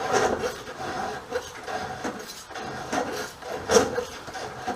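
A coarse file scrapes across a chainsaw chain in repeated rasping strokes about once a second. The strokes are close and moderately loud, with no talking.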